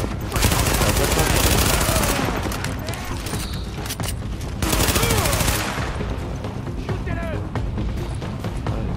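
Sustained bursts of automatic machine gun fire in The Division video game, loud and dense, with brief pauses between volleys and faint talk underneath.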